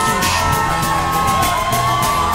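A wrestling event crowd roars continuously, loud and close, a dense wash of cheering and shouting with whistles or whoops on top.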